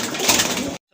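A pair of milli-coloured Rajgolla pigeons coo softly and continuously at close range for under a second before the sound cuts off to silence.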